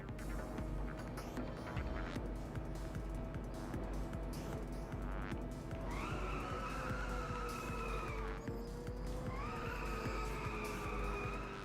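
A game car drifting in Inertial Drift produces a continuous engine drone and tire squeal, with sustained rising and falling screeches through long slides over a steady rumble.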